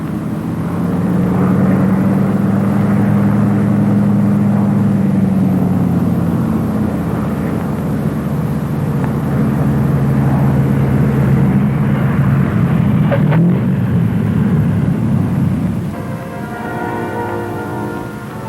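A Lockheed P-38 fighter's twin piston engines give a loud, steady droning roar for most of the run, swelling and then easing off, then fading lower near the end.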